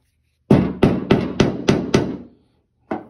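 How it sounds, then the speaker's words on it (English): A steel hammer strikes a transfer punch to mark a hole location in material laid over it for under-hood insulation work: six sharp, ringing blows in a quick, even rhythm, then a pause and a seventh hit, loud and close. "Then you hit it with the hammer."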